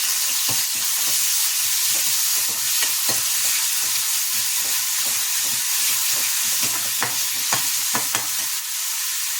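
Drumsticks and onion sizzle steadily in a hot pan while being stir-fried, with a continuous frying hiss and repeated scraping stirs, no talking.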